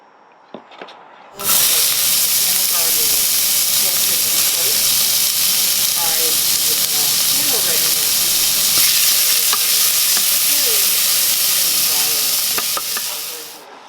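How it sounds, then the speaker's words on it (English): Tomato sauce with garlic, olive oil and half a stick of butter bubbling and sizzling loudly in a pan, a steady close hiss with stirring scrapes that starts abruptly after a brief quiet moment and continues without talk. "I'm going to bring that to a simmer"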